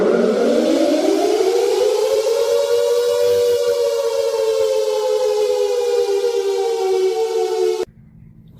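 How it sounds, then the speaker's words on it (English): A Secomak GP8 air raid siren converted to CS8 style wails loud and close, its tone rising over the first few seconds and then holding a steady howl before cutting off abruptly near the end. "the much larger GP8 to make a CS8 style siren"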